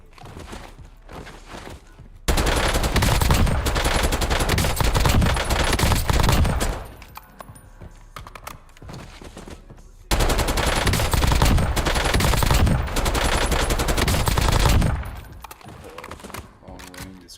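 Two long bursts of rapid automatic AK rifle fire on a Call of Duty firing range, loud and dense, each lasting several seconds, separated by a quieter stretch with a faint voice talking.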